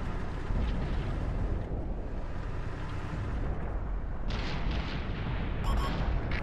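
Heavy explosive blasts and booming impacts from a tank being hit and destroyed in the World of Tanks video game on Xbox One, loud and continuous with a sharper burst of crackle near the end.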